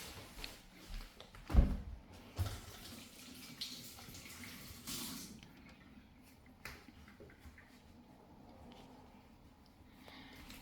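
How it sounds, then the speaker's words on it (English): Tap water runs into a sink as hands are washed, a steady low splashing hiss with a few louder bursts and bumps near the start, then a softer continuous flow fading toward the end. "So let's go wash our hands."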